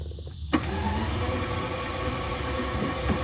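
Starter cranking over the engine of a 1988 Jaguar V12 Sovereign barn find after a fresh battery goes in, a sudden onset into a steady, droning whir that holds without firing, close and loud.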